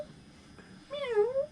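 A pet house cat gives a single drawn-out meow near the end, rising then falling in pitch, close and clear after a quiet, low-hum stretch.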